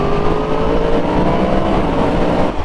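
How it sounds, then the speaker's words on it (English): An Audi R8 follows close behind a 2023 Yamaha MT10 motorcycle on the road, producing a continuous loud engine roar with wind rush throughout. "Now I've got an Audi R8 behind me."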